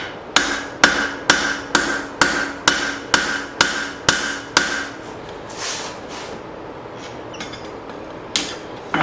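Straight peen hammer striking hot steel while forging an axe hatchet: about ten sharp, evenly spaced ringing blows at close range, then a pause with faint scraping and a couple of later isolated strikes.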